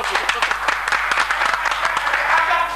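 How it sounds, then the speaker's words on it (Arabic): An audience bursts into loud, dense applause, many hands clapping at once with sharp claps punctuating the steady wash, and voices mixed underneath. "صفقوا."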